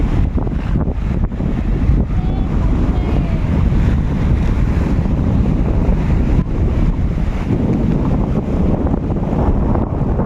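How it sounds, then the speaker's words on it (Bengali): Big sea waves and strong wind on a fishing boat, a loud, rumbling, continuous roar of wind buffeting the microphone with surging water beneath, no voices. "দেখুন বন্ধুরা বিশাল ঢেউ বিশাল ঢেউ হচ্ছে"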